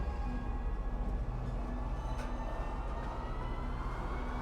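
A train approaching a station platform in a video game, a steady rumbling drone with a low pulsing throb and faint tonal hum, moderately loud and continuous.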